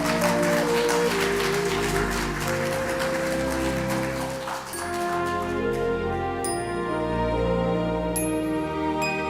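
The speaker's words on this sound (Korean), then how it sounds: "여러분 큰 박수 부탁드립니다" An audience gathered for a Buddhist rally at the National Assembly claps loudly to welcome a monk onto the stage; the dense applause fills the first few seconds, then gives way to sustained ringing tones.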